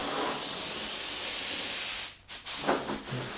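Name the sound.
compressed air blowing out a BMW E36 boot before priming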